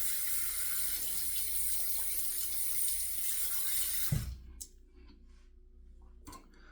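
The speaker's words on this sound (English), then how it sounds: "I'm just going to rinse this off." Kamasori shavette rinsed under a running water tap, a steady hiss of flowing water into a sink that cuts off abruptly, followed by faint clicks and handling sounds.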